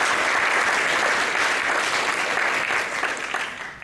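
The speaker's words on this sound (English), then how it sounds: "So could you give her a round of applause?" Full round of applause from an audience at a foundation's anniversary celebration, honoring the events coordinator, dense steady clapping that tapers slightly at the very end.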